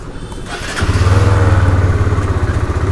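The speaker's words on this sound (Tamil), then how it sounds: "ஸ்டார்ட் ஆன உடனே ஜம்முன்னு சத்தம் கொடுக்குறா." A motorcycle engine starts up with a brief crank, then settles into a steady, throbbing idle close by.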